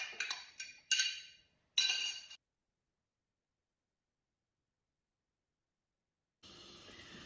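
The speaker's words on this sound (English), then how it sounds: "Next, going into the bowl, we have some sun-dried tomatoes, some capsicum, some onion," Sun-dried tomatoes, capsicum and onion dropped into a Thermomix TM7 bowl: three quick clinking, rustling drops close by, a few seconds of near silence, then a soft steady hiss rising near the end.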